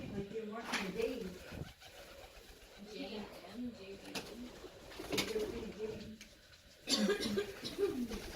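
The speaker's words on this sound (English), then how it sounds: "Oh, there's hella birds up here." Pigeons or doves coo softly over and over inside a building, their low rolling calls repeating in short bouts at close to moderate distance, with occasional knocks and faint background noise.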